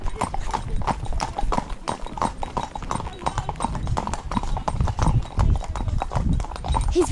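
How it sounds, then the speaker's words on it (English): Horse hooves trot steadily on a countryside hack to the fields, close rhythmic clip-clop beats with a brief snort, while riders talk over them. "his fast trot is the speed of my horse's canter"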